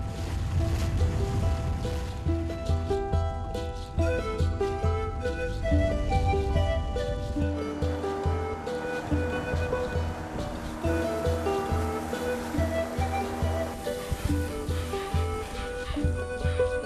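A motorboat travels along a river in the Manu jungle of Peru, its engine droning steadily with a wash of water and wind around it, while animated music plays over it.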